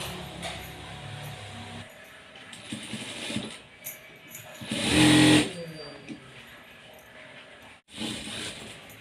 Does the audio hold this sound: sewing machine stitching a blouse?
yes